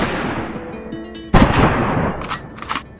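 Weapons fire in the video game The Last Way, with a sudden loud shot or blast followed by sharp, quieter reports in a short burst, heard alone.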